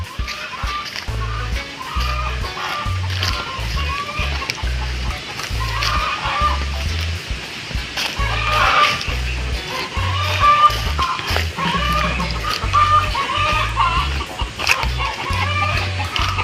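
Chickens cluck at a new nesting area, a close, rhythmic series of short repeated clucks that runs throughout with slight variations in pace.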